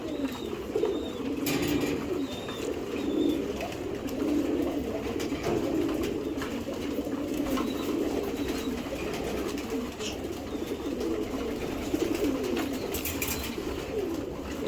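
Domestic pigeons, giribaz high-flyer breeds, coo in low repeated throaty phrases, close by and overlapping, with occasional soft chirps and faint background noise.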